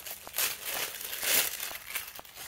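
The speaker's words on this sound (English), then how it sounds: "Let's take off this like tissue paper." Tissue paper wrapped around a German-made Lamy pen being pulled away, close soft crinkling and rustling in uneven bursts with a couple of light taps, no talking.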